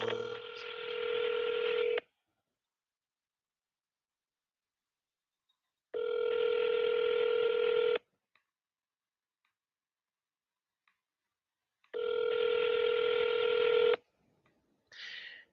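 Telephone dialing tones on an outgoing call, three separate bursts of steady dual tones, each about two seconds long with long silent gaps between them, close and clean with no talk.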